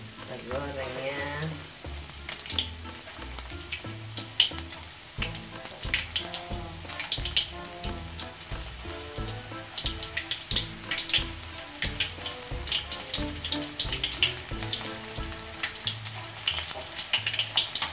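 Chicken frying in a pan for black pepper paprika chicken, a steady, busy sizzle and crackle running throughout with occasional stirring and scraping, fairly close and continuous with no talk.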